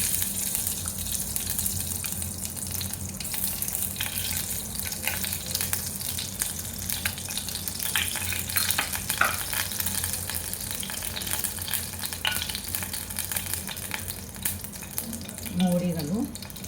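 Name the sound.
ghee heating for tempering tomato saar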